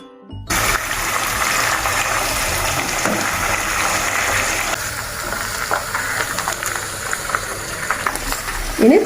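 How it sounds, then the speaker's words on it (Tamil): Chicken pieces frying in hot oil, a loud, dense, continuous hiss and bubbling roar that begins abruptly and holds steady, with small clinks and splutters toward the end. "எண்ணெய் சூடாயிட்டு இப்போ இதை சேர்த்து பொரிச்சு எடுத்துருவோம்."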